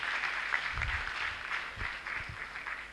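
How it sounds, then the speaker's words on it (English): Applause from an audience at an anniversary and induction ceremony, a soft, distant wash of clapping hands that holds steady, with faint low thumps from the room beneath it. "Can we give him an additional round of applause?"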